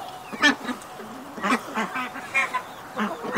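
Ducks quacking at a zoo, several short, scattered quacks in quick bursts, fairly close but modest in level against a quiet background.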